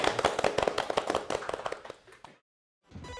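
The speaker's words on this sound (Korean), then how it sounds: "격려의 박수 한번" A burst of audience applause for a party leader on a Korean political talk show, dense clapping that thins out and stops, then a short quiet gap before faint room noise returns.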